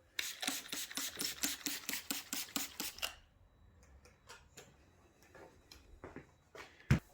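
Custom candy paint on a Harley-Davidson Sportster fuel tank being flattened by hand sanding, a rapid run of rhythmic rasping strokes for about three seconds, then quieter scattered rubs and taps, close up with no speech.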